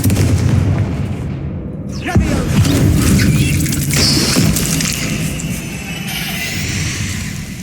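Loud spell blasts and booming impacts in a Hogwarts Legacy combat battle, a dense barrage of crashes and explosions layered over continuous roaring noise.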